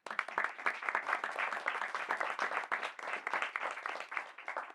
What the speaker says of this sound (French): Donc je crois qu'on peut l'applaudir